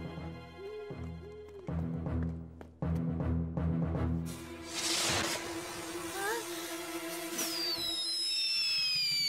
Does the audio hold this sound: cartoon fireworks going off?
yes